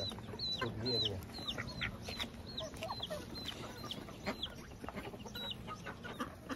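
Chickens and ducks at a poultry market cluck and squawk in repeated short calls over a busy background murmur, fairly close but not loud.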